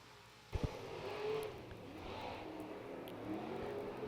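KDRA Superstock race cars run hot laps at Mountain Motor Speedway, a sharp thump opening into a distant, sustained engine roar that swells and fades as cars circle the track.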